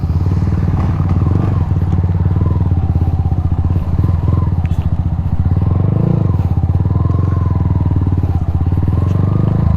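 A motorcycle engine throbs loud and steady throughout, a rough pulsing idle with rattling and clatter close by.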